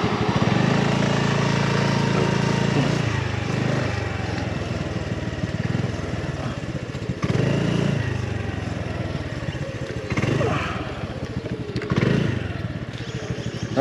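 Motorcycle engine running on the Ternate-Nasugbu Highway near Kaybiang Tunnel, a close, steady low rumble with a light mechanical clatter and a few small swells in throttle.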